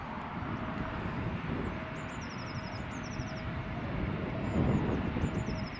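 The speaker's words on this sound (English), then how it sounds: "Air France Embraer 170 is just" An Air France Embraer 170 jet at Newcastle airport in stormy wind, its engines a broad steady roar with a faint whine, fairly distant, swelling slightly toward the end amid gusty noise.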